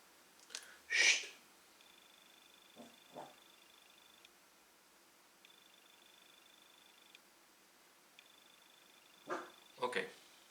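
A small dog indoors lets out a few short barks and soft whimpers in scattered bursts, separated by quiet gaps with a faint steady tone in the background.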